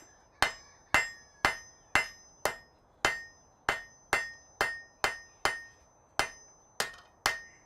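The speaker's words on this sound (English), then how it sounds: "I got the rounding hammer. It can do the work easily enough." A rounding hammer strikes hot metal in a smithy in a steady, evenly spaced rhythm, about fifteen sharp ringing blows, each one decaying quickly before the next.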